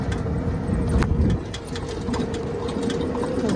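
A motorcycle engine hums steadily and close throughout a short ride, with a continuous rumble, wind buffeting and occasional light rattles.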